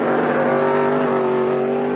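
A Super Truck racing up a hill, its engine holding a loud, steady high-revving drone throughout the short burst.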